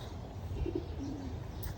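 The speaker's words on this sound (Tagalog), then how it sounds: "Mga kalapati, lalaki ng mga kalapati nila rito." Pigeons at a garden and farm resort give a soft, low coo, faint and fairly distant, over a quiet outdoor background with no talking.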